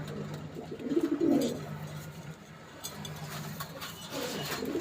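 Imported Pakistani Teddy pigeons in a loft give a close, throaty coo, one swelling call early and softer murmurs after, over a quiet room tone without talking.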